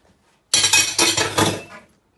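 A spoon clinks and scrapes repeatedly against a bowl while spices are mixed with white vinegar, several close, bright metallic taps and scrapes over about a second and a half.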